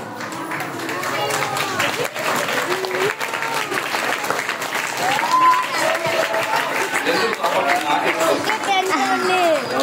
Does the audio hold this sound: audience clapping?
yes